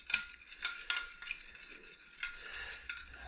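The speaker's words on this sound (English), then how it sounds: "going to mix that up." Utensil stirring a deli ham lunch meat mixture in a bowl, a series of soft scraping, clattering strokes in an uneven rhythm, close and fairly quiet with no talking.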